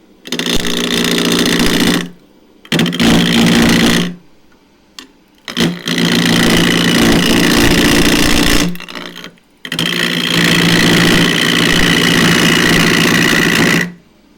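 Elm blank, four inches square and cross grain, spinning on a wood lathe at 980 rpm, giving a loud steady whirring hum with a low thump in three long bursts separated by short silent gaps.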